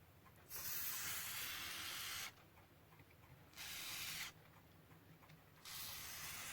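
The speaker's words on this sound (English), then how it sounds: "Squirt some more stuff down it." Lubricant sprayed into a Roberts R717 radio during a rough dismantle: three distinct hissing bursts from an aerosol can, each lasting one to two seconds and separated by short pauses, close and fairly quiet, with no talking.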